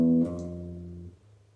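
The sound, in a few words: bass guitar note played one by one, first attempt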